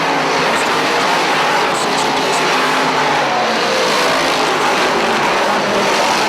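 Dirt modified race cars roar around the Airborne Speedway oval in Plattsburgh, New York, a dense, loud, continuous engine drone from several cars at once.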